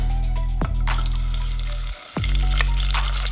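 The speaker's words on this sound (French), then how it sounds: "Je vais verser tout simplement nos oignons" Sliced onions poured into a hot pan sizzle and fry loudly, a dense continuous crackle close by, interrupted by brief scraping or stirring movements.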